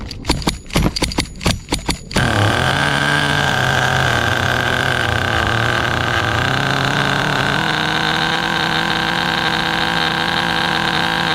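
An HPI RS4 nitro RC car engine, a small two-stroke fitted to a restored historic Porsche-bodied model, is pull-started with a few quick rattling bursts, then catches and runs loudly and steadily with a buzzing, rising-and-settling tone.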